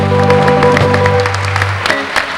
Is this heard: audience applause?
yes